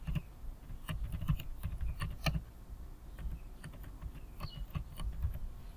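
Close typing on a computer keyboard while entering a sheet name in Excel, with quick clusters of keystrokes and brief pauses, heard alone without speech.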